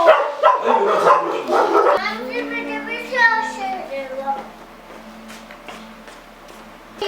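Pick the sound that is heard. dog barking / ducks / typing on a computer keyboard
dog barking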